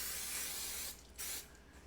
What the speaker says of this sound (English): This is griddle spray.